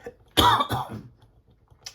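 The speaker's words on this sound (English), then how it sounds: "Apologies about the coughing." A person clears their throat and gives a short, rough cough, two close bursts followed by near silence.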